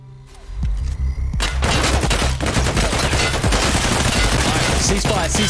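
Heavy, sustained gunfire from many weapons firing at once in Escape from Tarkov, a loud overlapping barrage that starts after a brief quiet moment and continues densely to the end.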